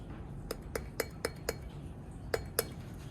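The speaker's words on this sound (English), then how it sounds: "Give it a nice gentle stir." A spoon stirs sugar into hard cider in a plastic bottling bucket, giving about seven sharp, light clinks at an uneven pace over a faint background hiss.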